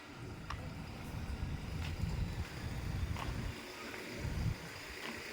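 Wind gusts on Mt. Kulis rumble across the microphone in low, uneven surges, easing briefly before swelling again, with faint scattered clicks in the background.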